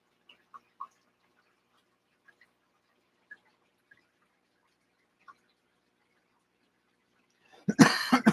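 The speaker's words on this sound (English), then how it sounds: "get ready for some coughing." A few faint clicks and ticks in near silence, then a sudden harsh cough bursts out at the end, close and loud.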